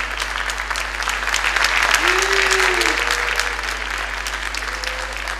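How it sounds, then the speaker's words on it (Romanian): Audience at a music festival applauds a singer, a broad sustained roar of clapping from a large crowd, steady throughout, with a brief voice rising out of it. "Aplauze, aplauze,"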